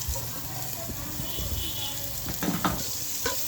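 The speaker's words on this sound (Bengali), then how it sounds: "তেল তাইতে গিয়েছে কিছুটা পেঁয়াজ দিয়ে দেবো" Onions sizzling in hot oil in a frying pan for fried rice, a steady crackling hiss with a few scraping stir sounds toward the end, close and moderately quiet.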